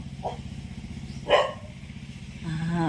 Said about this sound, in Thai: ไม้ทองก็เฮาเห่าไปรษณีย์มาส่งของ